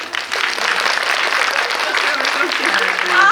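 Audience applause in a theater-style talk event, steady dense clapping throughout, fairly loud, with a faint voice near the end.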